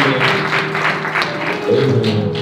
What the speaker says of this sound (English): give God a hand clap of praise for the years that he gave her